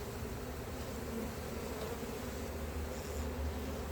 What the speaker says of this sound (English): They are swarming to their new queen.